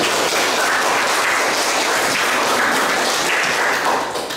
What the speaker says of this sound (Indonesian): Beri tepuk tangan untuk saya